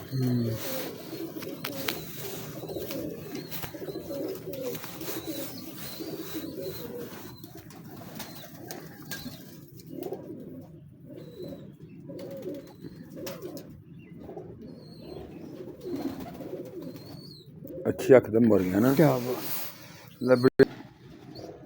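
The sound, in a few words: pigeons cooing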